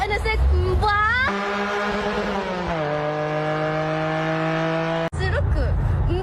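A Honda NSX engine revs loudly, a sustained high-pitched howl that climbs, then settles to a lower steady note before stopping abruptly.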